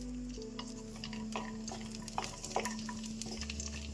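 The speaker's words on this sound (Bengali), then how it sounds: "প্রথমে কাজু আর কিশমিশটা আমি ভেজে নেব" Cashews and raisins frying in mustard oil in a kadai, heard as faint, soft stirring taps and a light sizzle beneath a low, constant hum.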